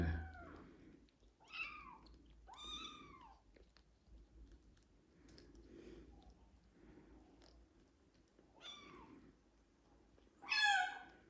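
A rescued kitten meows repeatedly, about five short rising-falling cries spaced a second or two apart, close and fairly clear, with quiet chewing or mouth sounds between the calls and a louder, shriller meow at the end.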